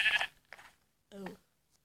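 Sheep bleats in Minecraft Pocket Edition: a short, faint bleat near the start, then a clearer, louder bleat a second later, with quiet gaps between them.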